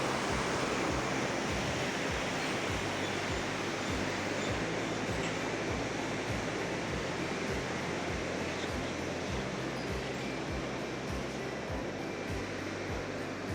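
Himalayan water flows steadily outdoors in a continuous broadband rush, loud and unbroken, with no voices.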